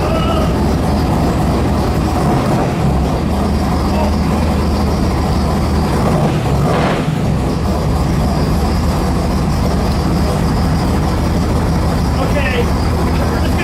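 An original Chevrolet Camaro Z28 with a DZ302 V8 and 45,000 miles fires up and runs with a low, steady rumble. People talk over the engine throughout.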